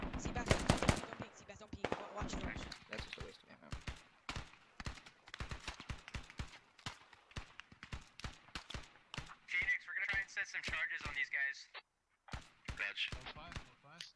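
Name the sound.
gunfire in the video game Squad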